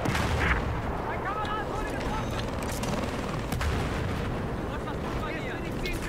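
Battlefield 4 combat rages with continuous gunfire and booming artillery-like blasts, a loud, dense barrage of shots and explosions layered over one another for the whole stretch.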